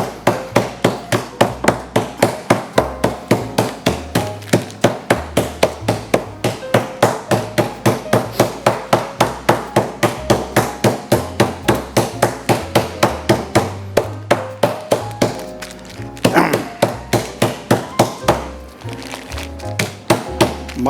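A meat mallet pounds chicken flat on a board in a home kitchen, a long steady run of loud, close, rapid thuds with a brief pause near the end before the hammering resumes; no talking.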